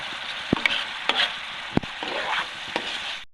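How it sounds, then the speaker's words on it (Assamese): Potatoes fry in spice masala for a fish curry, a steady close sizzle broken by several sharp spoon scrapes and taps as the pan is stirred. "আলুখিনি মানে আধা ভাজছোঁ আৰু আধা সিজাই ল'ম মছলাখিনিৰ লগত"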